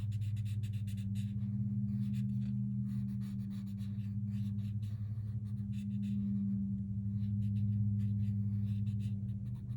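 A blender stump smudges pencil across plain cardstock, giving a faint, steady scratchy rubbing under a low continuous hum, with no one talking.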